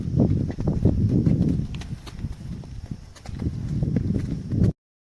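Cows' hooves thud and clop on a hard surface as the animals are walked onto a vehicle for loading, an irregular cluster of close, heavy steps with a short lull midway.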